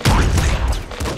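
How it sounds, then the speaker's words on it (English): Corpses exploding in the video game Nuclear Throne, a loud burst of rapid crackling blasts lasting about a second. "I can explode corpses like that."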